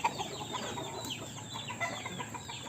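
Pet chickens cluck softly in a backyard coop, a scatter of short, low calls over steady ambient noise with no voices.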